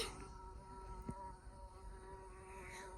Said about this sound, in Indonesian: Oh my god, it's a bee.